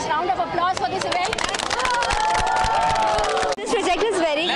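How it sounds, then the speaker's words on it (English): Schoolchildren and guests at a school cleanliness campaign for Children's Day clap loudly over crowd babble and cheering. The applause stays dense with a brief dip near the end. "Can we have a nice round of applause for this event?"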